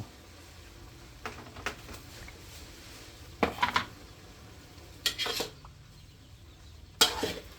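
Cauliflower being stir-fried in a pan, heard as a few short, separate bursts of a utensil scraping and clattering against the metal over a quiet background, with no talking.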